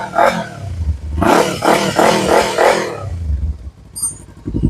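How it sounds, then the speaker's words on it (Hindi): Kawasaki Ninja 300 with an aftermarket exhaust and dB killer fitted, revved in short throttle blips: a sharp rise, then a longer sustained rev with a rasping, burbling note, ending on a muffled idle. "इसका भी साउंड आप सुन लो डीबी किलर के साथ।"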